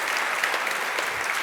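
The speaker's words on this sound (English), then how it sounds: "please, round of applause for Ben, ladies and gentlemen" An audience applauds a speaker at the Refresh 2015 tech talk: dense, steady clapping from a crowd, sustained and fairly loud for the whole moment with no voices over it.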